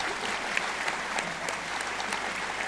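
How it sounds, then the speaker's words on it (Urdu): Steady applause from an audience at a Pakistan Air Force stage show greeting a guest on stage, dense continuous clapping with sharper individual claps poking through, sustained the whole time. "آپ کی بھرپور تالیوں میں استقبال کیجئے"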